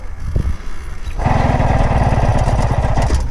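Engine of a 1976 Carabela moped sputters and catches after a brief cranking attempt, settling into a loud, rapid, uneven putter close by.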